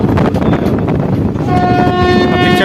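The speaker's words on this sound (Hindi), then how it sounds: "फिलहाल ट्रेन हमारी अराइवल हो रही है दौलाला रेलवे स्टेशन।" The Delhi Haridwar Express pulls into Daurala railway station, rumbling and clattering loudly up close, then sounds a long steady horn blast over the running noise.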